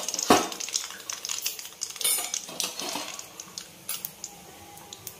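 Mustard seeds crackle in hot oil in a heated kadai, a close series of sharp irregular pops and snaps over a soft background hiss, loudest early and thinning out toward the end.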